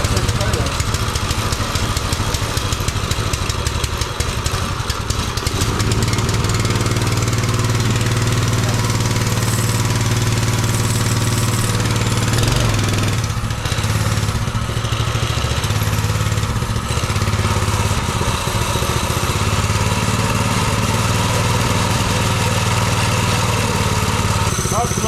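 A minibike or pit bike freshly swapped to a Predator engine runs steadily and loud at close range for the whole stretch, a continuous idling mechanical drone with voices talking over it.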